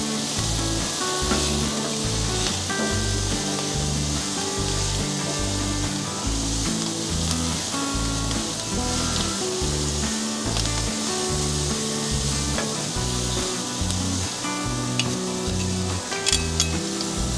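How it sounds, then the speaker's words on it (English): Beef pieces for beef bourguignon sizzling on a grill and being tossed, a dense continuous hiss and crackle with a steady low hum beneath, close and even throughout, with no talking. "I've been tossing them on the grill for a few minutes"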